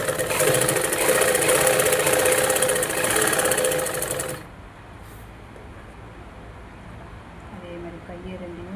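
A sewing machine stitching a blouse runs with a dense rapid whir for about four seconds, then stops abruptly, leaving quiet room sound with faint handling noises.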